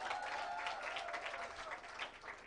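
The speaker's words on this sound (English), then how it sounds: "So clap for yourselves" Closing-ceremony audience at a climate justice summer school in Nairobi breaks into steady, dense applause, a broad wash of many hands clapping evenly throughout with a faint voice underneath.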